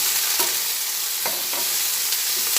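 Eggplant pieces with a little turmeric powder are stirred in a hot pan, a close continuous sizzle broken by a few soft scrapes of the spoon.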